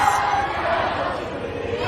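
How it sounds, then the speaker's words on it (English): Protest crowd shouting together on a public square in Guangzhou, China, a loud, massed roar of many voices lasting a brief moment. "hundreds gathered on the public square and the crowd shouted"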